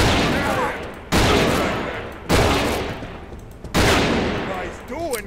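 Gunfire in the Fallen Aces video game: four loud, evenly spaced shots, each a sharp crack followed by a long decaying reverberant tail, with a brief voice near the end.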